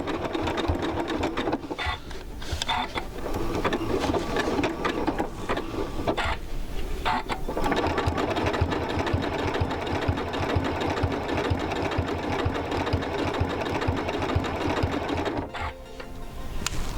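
A sewing machine runs a blanket stitch steadily over quilt bias binding around a mitered corner, its rapid mechanical chatter loud and close, with brief pauses.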